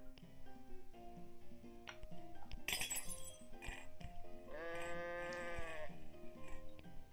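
Goat bleating in the video game I Am Bread, a wavering tonal bleat rising over busy game music with clinks and clatter, moderately loud and alone without speech.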